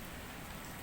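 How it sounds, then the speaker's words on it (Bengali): Rain falls steadily outside, a dense, even hiss of drops that stays constant and fairly faint throughout, with no voices. "দেখুন বাইরে বৃষ্টি পড়ছে"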